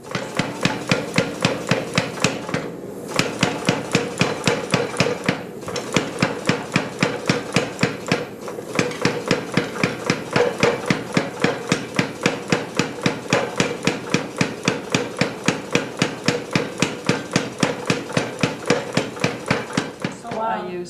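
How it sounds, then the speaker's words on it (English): Rapid, steady pounding of a blacksmith's power hammer forging metal, dozens of fast regular blows with a couple of brief pauses, loud and close. "This blue power hammer in the corner there."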